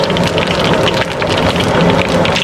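Mustard and cumin seeds spluttering in hot oil for a stuffed brinjal curry make a loud, dense crackle of rapid pops, like heavy rain, continuous throughout.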